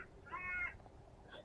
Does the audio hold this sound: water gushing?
no